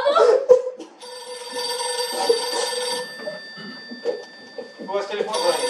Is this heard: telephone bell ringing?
yes